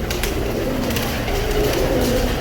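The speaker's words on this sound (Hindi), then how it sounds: "ये सारे कबूतर आप देख सकते हो कितने अपने एक्टिव हैं सारे" Pigeons in a cross-ventilated loft coo in low, overlapping murmurs over a continuous background hum, with a few faint clicks and flutters mixed in.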